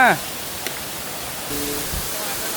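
The Takhro twin waterfall pours with a steady broad rushing hiss that holds throughout, broken only by a faint tick and a slight rise in level partway through.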